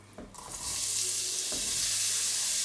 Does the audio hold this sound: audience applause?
no